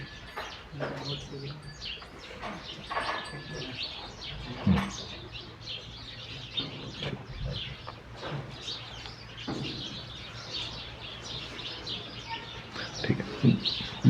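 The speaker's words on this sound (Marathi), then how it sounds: "पक्ष्यांचा आवाज कोण म्हणाले?" Recorded birdsong played back through a phone speaker, with repeated chirps and tweets, some cooing calls and a low steady hum, while people talk in the room.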